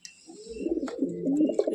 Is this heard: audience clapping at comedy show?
no